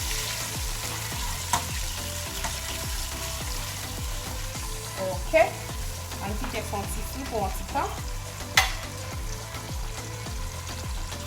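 Garlic and ingredients frying in a pot for a Haitian fish sauce, a steady close sizzle with stirring scrapes and a few sharp utensil clanks, while a voice speaks briefly over it.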